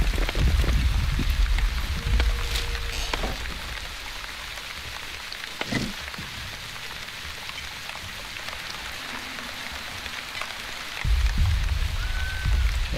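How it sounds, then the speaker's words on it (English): Rain weather in The Wandering Village video game: a continuous hiss of rainfall on surfaces with scattered droplet patter, a low rumble swelling at the start and end, and a few faint tonal game sounds drifting through. "ASMR rain again, indeed."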